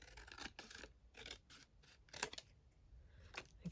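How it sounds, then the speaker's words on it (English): Scissors snip through a laminated see-through sticker sheet in a quiet room, a series of short, crisp cutting strokes at an uneven rhythm, faint and close. "I'm going to cut this down slightly more"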